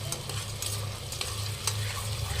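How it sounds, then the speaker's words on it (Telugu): Onions and green chillies frying in oil, a soft continuous sizzle with faint stirring scrapes and a low hum underneath, fairly quiet and without speech. "ఆనియన్స్ పచ్చిమిర్చి వేసుకొని బాగా ఫ్రై చేసుకోవాలి."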